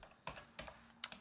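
Keys on a computer keyboard are tapped as a file name is typed, making a few quick, light clicks close by in an otherwise quiet room.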